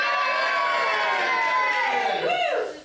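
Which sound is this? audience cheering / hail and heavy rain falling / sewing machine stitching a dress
audience cheering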